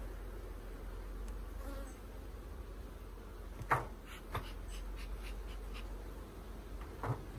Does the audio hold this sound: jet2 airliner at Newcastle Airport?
no